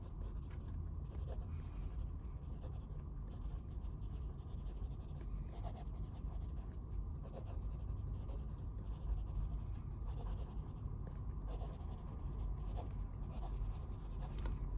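A fountain pen filled with Diamine 1864 Blue Black ink, a fine nib writing on the wetter side, scratches steadily across paper in a continuous close, soft stroking texture with small rhythmic pulses.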